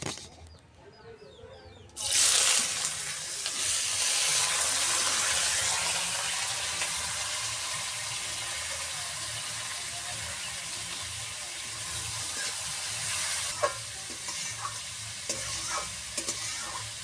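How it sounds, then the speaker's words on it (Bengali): Potatoes frying in hot oil for a spicy sea fish curry, a loud, steady sizzle bursting in after a quiet start and hissing on with occasional clinks from stirring. "তেল গরম হয়ে গেছে, এবার আলুগুলো দিয়ে দেবো।"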